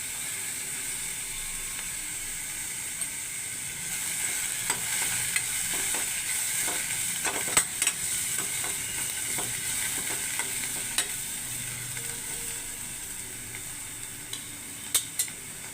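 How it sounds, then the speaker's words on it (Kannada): Curry leaves sizzle in a pan of oil while tomato chitranna is made, a steady quiet frying hiss broken by occasional sharp crackles and pops. "ಈಗ ಸ್ವಲ್ಪ ಕರಿಬೇವನ್ನು ಹಾಕಿ ಫ್ರೈ ಮಾಡ್ಕೊಳ್ತಿದ್ದೇನೆ"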